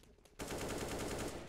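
Rapid automatic gunfire in the video game CS:GO as a player is killed with a headshot, a loud sustained burst of closely spaced shots starting abruptly after a quieter moment.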